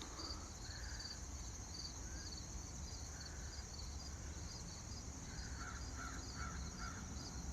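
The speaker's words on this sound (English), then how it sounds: "I hear a crow." Crows caw in repeated short bursts from a distance, a run of four calls near the end, over a constant chorus of insects.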